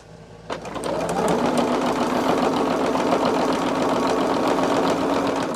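A sewing machine stitches quilt fabric along a seam line, starting with a short clack and then running in a steady, close, fast mechanical whir that holds evenly to the end.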